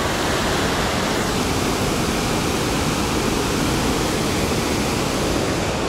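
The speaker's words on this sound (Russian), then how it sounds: "Водопад." A waterfall in the Carpathian mountains gives a constant, dense roar of rushing water, loud and unbroken throughout, with no voices.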